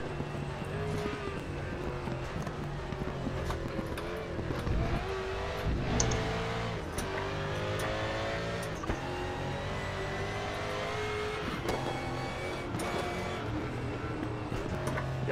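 A race car engine in the RaceRoom racing game drones loud and steady for the whole stretch, pitch climbing and dropping with shifts and braking into a chicane, with faint voices now and then.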